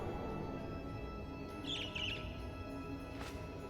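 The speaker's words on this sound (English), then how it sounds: "It's a bird." A bird in the video game Trails of Cold Steel II gives a brief cluster of high chirps over a low, constant ambient hum, fairly faint.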